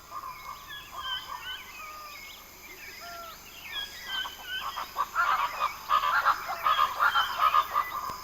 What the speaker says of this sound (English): The hoatzin is superbly adapted to life in the flooded forest.